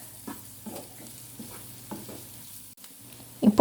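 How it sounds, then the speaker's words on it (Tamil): Ginger garlic paste sautés in a pan for a potato masala, a soft steady sizzle broken by several scraping stirs of a spatula, close by, ending with a louder clatter. "இஞ்சி பூண்டு பேஸ்ட்டு சேர்த்துட்டு அதோட ராஸ்மெல் போகிற வரைக்கும் வதக்கி விட்டுக்குவோம்"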